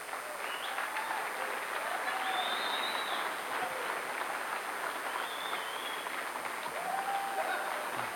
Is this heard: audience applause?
yes